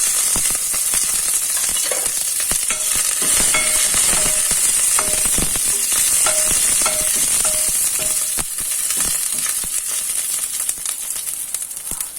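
Dried red chillies and curry leaves fry in hot ghee, giving a steady, bright sizzle with crackling bursts and rhythmic scraping of a spoon against the pan, close and lively throughout.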